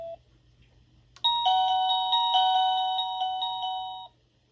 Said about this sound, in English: Everyone likes the Westminster chimes.